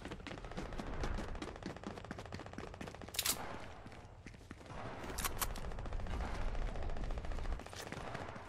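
Rapid automatic gunfire from a close-range, wide-spread gun in Fortnite crackles in dense bursts that pause briefly and resume, loud and close, with no talking.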